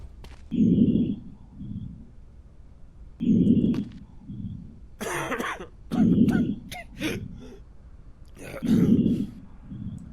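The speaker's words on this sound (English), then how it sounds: "I don't even want to get close to this man coughing like that." A man coughs and clears his throat repeatedly in a quarantine zone video game, with several rough, low bursts spaced a few seconds apart, close and fairly loud over a faint background hum.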